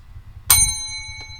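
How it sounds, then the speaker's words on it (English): A single bright strike of a bell rings out over a low rumbling background, its clear tone lingering and slowly fading, with a faint second tap shortly after. "You ring the bell."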